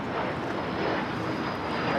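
A KLM Boeing 787-10 Dreamliner on a flight from Amsterdam roars steadily at LAX airport, a broad, even jet noise with little change over two seconds.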